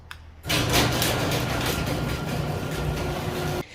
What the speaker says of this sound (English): let's try out the garage door to make sure that it works